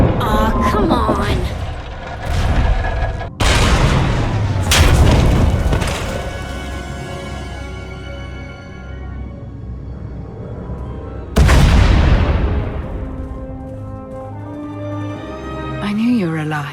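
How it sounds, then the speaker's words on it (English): Several deep, booming explosions go off one after another in Star Wars: The Old Republic, each rumbling and fading, with a big blast near the end over a low, droning background. "We heard explosions."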